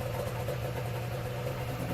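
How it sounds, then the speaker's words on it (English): A Lambretta scooter with a Banshee engine and nitrous runs on a remote dyno bench with a 2-in-1 exhaust. It gives a steady, loud, dense engine drone throughout with no talk. "Here I switch off the engine"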